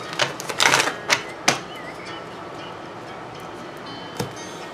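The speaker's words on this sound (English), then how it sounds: "Do one more shuffle." Tarot cards shuffled during a reading, a cluster of quick crisp riffling bursts up close in the first second and a half, then quiet room tone with one more short snap near the end.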